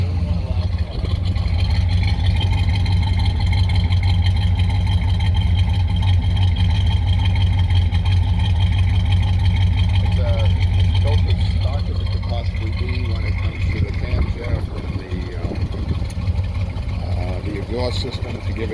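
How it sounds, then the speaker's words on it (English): A 1965 Chevrolet Malibu SS with the L79 engine idles through its exhaust, giving a loud, steady, deep burble that runs the whole way, with people talking over it. "You got that correct note out of the exhaust too."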